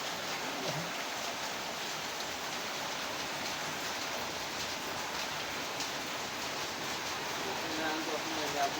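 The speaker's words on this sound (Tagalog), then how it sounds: "Yun naman, umulan naman ngayon, alanganin naman." Steady rain falling outdoors in the Philippines during a junk-hauling job, a continuous wash of hiss across the whole stretch with no breaks, fairly close and moderately loud.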